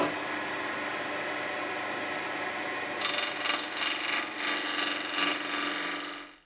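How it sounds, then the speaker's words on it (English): A very small chisel scrapes and cuts around a wooden chair frame part, a rough, continuous rasping that starts abruptly after quiet and carries on in close, slightly uneven strokes. "go around with this little very tiny chisel, just because I want to sort of stop this splitting"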